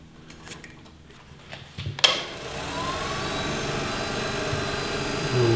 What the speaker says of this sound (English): I'm just going to turn lathe speed up a little bit